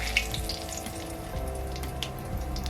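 Whole cumin seeds and bay leaves hit hot oil left from frying potatoes, giving a steady moderate sizzle with a low hum beneath it and a few brief crackles.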